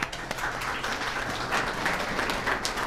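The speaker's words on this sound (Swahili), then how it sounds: "Kwa hiyo naomba tumkaribishe kwa makofi makubwa" An audience claps steadily to welcome a guest speaker, Mr. Pirani, at a lecture hall event. The applause is fairly soft and even, sustained for a few seconds without a clear peak.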